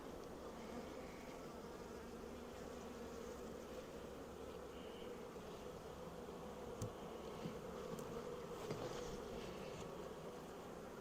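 Honey bees hum in a steady, low, continuous drone while a Layens hive is opened for inspection. The buzzing stays faint and even throughout, with a few small ticks and knocks.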